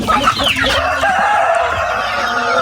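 Free-range chickens and turkeys cluck and call close by in a loud, busy flock, with overlapping clucks and squawks and a rising crow-like call near the start.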